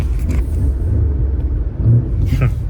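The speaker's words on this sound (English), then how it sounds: "It's so aggressive at the gas pedal, this car, it's insane." Deep engine rumble from a BMW M5 sports car, loud and low, swelling and easing through the stretch with a brief surge near the end.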